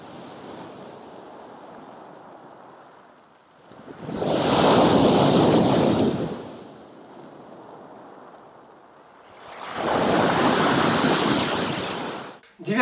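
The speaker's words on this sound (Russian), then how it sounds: "Это хорошо иллюстрирует прибой." Ocean surf with two big waves breaking and washing in, each swelling to a loud roar of several seconds before receding into a quieter wash, with some wind buffeting in between.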